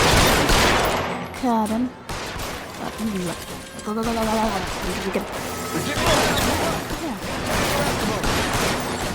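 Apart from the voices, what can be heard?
gunfire in a shootout in the video game L.A. Noire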